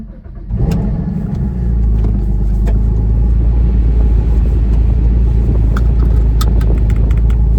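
A Porsche Cayman 981 engine cold starts, firing up and settling into a loud, deep, steady idle rumble close by, continuing without a break.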